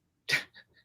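A single short sneeze bursts out close by, followed by a couple of faint breathy sounds.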